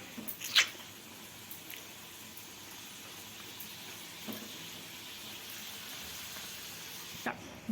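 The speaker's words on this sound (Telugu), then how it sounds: "అలాగే ఇవి కూడా వేయించేసుకుందాం." Dry fruits frying in a pan give off a faint, steady sizzle, broken by a few small pops and clicks.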